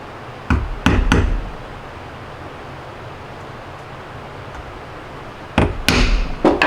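A setting tool is tapped to set a snap into a leather cuff: three sharp taps, a long quiet pause over low background noise, then another quick cluster of three or four taps, close and crisp.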